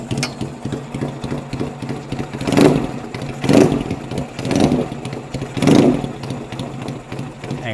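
A Yamaha XS 650 chopper motorcycle engine running just after a kick start, a loud close mechanical chatter with repeated swells of revving every second or so.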